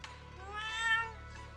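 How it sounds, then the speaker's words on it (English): A fat orange cat in the video game Zenless Zone Zero gives a single drawn-out, triumphant meow, close and fairly clear over a low steady background hum. "Suddenly a fat orange cat waddles out from corner of the room. It looks over, meows triumphantly"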